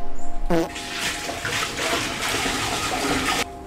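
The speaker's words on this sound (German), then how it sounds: "Spülung, ja, da seht ihr es." A toilet flushes in a basic jungle lodge in Peru, a gurgling rush of water that starts abruptly after a short click and churns steadily at close range for about three seconds before cutting off.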